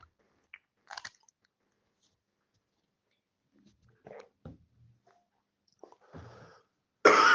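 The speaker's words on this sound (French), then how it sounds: "excusez-moi pour la toux" A man giving a French-language religious talk coughs, producing a few short, sharp throat bursts and soft throat noises spread across quiet pauses, ending in a louder close burst.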